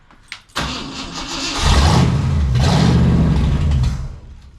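A car engine that sat unused for over a year cranks and catches, a short stutter then a sudden start, settling into a loud rough rumble that rises with revving before easing toward idle, close by.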